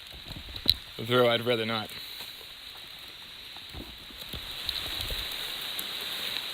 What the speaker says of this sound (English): I don't think we're going to beat the rain as far as hiking.